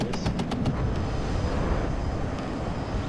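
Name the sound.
jet strike aircraft flying over, from video game WARNO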